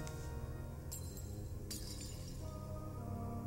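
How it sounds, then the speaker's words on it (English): Glassy shattering and clinking of stars breaking apart in Katamari Damacy, two bright crashes standing out over steady game music. "Star is just shattering, I guess."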